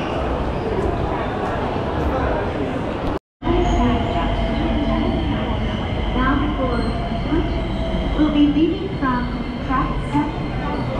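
A train at a station in Osaka, Japan, rumbles steadily and loudly close by with wheel and rail noise, faint squeals, and people talking in the background.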